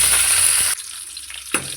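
Curry leaves dropped into hot oil with crackling mustard seeds, fenugreek and cumin, giving a loud, dense sizzle that cuts off abruptly, then returns briefly with a spit.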